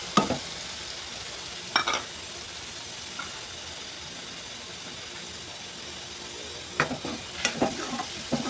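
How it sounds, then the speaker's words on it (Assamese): Spice paste mixed with water hitting hot oil in a pan, a dense steady hiss and sizzle, nearby and even, with a few brief spoon scrapes at the start and end. "এই মছলাখিনি তেলত দি দিলোঁ"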